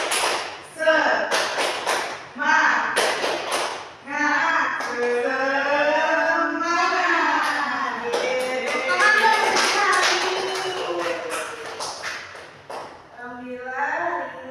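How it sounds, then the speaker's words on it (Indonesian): A classroom of students doing a rhythmic spirit clap: groups of sharp claps in set patterns alternate with voices chanting together. The clapping stops and starts in bursts, and the chanting sits close and loud between them. "Tepuk semangat."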